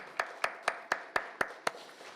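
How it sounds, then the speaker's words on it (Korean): Congregation clapping in unison during a church service, seven evenly spaced sharp claps in a steady rhythm, moderately loud in a reverberant hall with no talking. "하나님께 감사와 영광의 박수를 올려드립니다."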